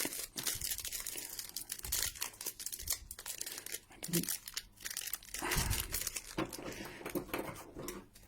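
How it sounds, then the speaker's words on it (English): A packet of Japanese fishy arare rice crackers is cut open and handled, with close crinkling and crackling of the wrapper in irregular bursts and a brief tearing sound. "Cut open the top."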